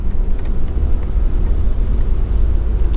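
1978 Dodge Monaco police pursuit car with a 440 engine driving fast, a steady loud low engine roar and road rumble heard from inside the cabin, alone without talk.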